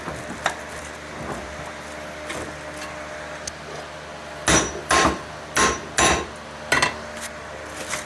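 Wheel studs get hammered out of a new Timken hub from a 1998 Dodge Neon in a garage, a run of six or so loud, sharp metallic blows in quick succession after a quiet stretch.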